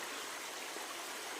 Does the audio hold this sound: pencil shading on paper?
no